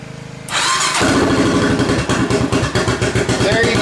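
A cold four-wheeler ATV engine cranks and catches after its starter solenoid is jumpered, then settles into a loud, close, steady rattling idle with rhythmic pulsing.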